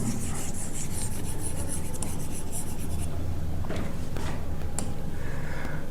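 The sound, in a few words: erasing writing on a board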